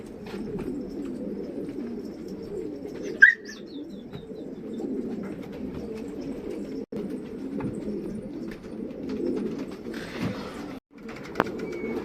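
Racing pigeons coo softly in a low, continuous murmur inside a loft, with a brief flutter and occasional faint chirps.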